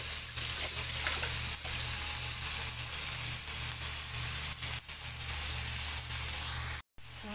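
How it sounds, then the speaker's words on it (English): Pork stir-frying in a saucepan without oil, browning over the heat. A steady, close sizzle runs throughout with faint stirring noises and a brief cut near the end. "I'm gonna cook my pork without oil to make it brownish color. Yeah, just do that and then just stir fry."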